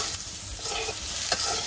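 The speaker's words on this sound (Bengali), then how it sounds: "আলু ভাজি দিয়ে দিছি চুলাই। এখন একটু নাড়াচাড়া দিয়ে নই।" Small native potatoes are stirred as they fry in a pan on a home stove, giving a steady close sizzle with a couple of scraping strokes and no talking.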